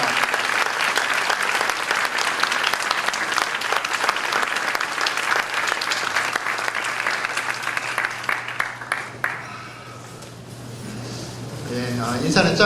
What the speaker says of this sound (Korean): 기립해서 우리 뜨거운 박수로 인사할 때